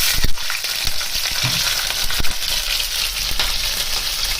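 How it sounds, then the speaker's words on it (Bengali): Garam masala and green chili hit very hot oil and set off a loud, dense frying hiss. Occasional clicks and knocks from the pan or utensil break through it, close up and with no voices. "এবার আমি গরম মশলাগুলো দিয়ে দিলাম আর কাঁচা লঙ্কাটা দিচ্ছি।"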